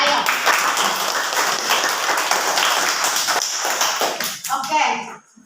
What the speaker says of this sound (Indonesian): Kita tepuk tangan untuk kita sendiri.